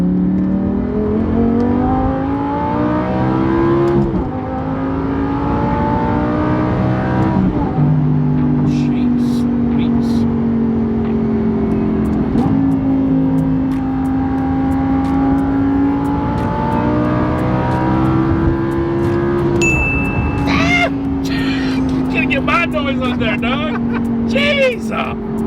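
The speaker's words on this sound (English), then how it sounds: "We are going to do a decibel test inside to see what she sounds like interior with the Avior Preformance Exhaust" Lamborghini Gallardo fitted with an Avior Performance exhaust revving hard, recorded from inside the cabin: a loud, sustained engine roar with rising and falling pitch sweeps, dipping briefly between pulls, with a few voices faintly underneath.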